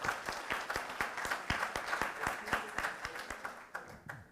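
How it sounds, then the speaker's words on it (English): An audience at a conference session claps for the speakers, with crisp, individual claps rising to a lively rhythm and then thinning out as the applause fades near the end. "Could we give them a round of applause?"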